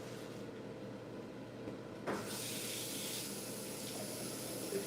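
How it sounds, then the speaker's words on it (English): Grits are rinsed under a running kitchen tap. A faint, steady rush of water starts partway through after a quiet stretch and continues alone to the end. "And I am going to wash them, rinse them, not really wash"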